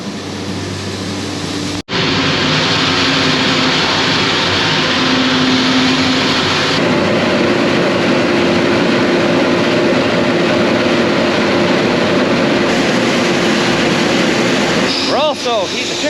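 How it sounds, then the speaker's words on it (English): A gas-fired corn roaster runs with a constant roaring whoosh and mechanical hum, broken by an abrupt cut-out early and then resuming steadily, while someone talks nearby. "My roaster's running still"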